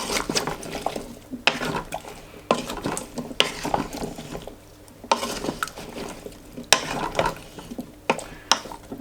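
A spoon stirs water and a beef stock cube into a stew in a pot, with repeated close clinks and scrapes against the metal and soft liquid swishing, and no speech over it.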